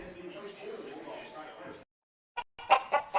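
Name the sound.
chickens clucking and rooster crowing in a radio ad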